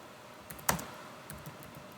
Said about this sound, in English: I'm typing the command that it says